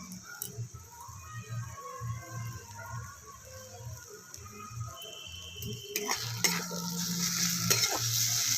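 Pointed gourd with chilli powder and spices is stirred in a frying pan, soft scraping strokes at first, then a brighter, louder sizzle rising in the final seconds, close and without speech.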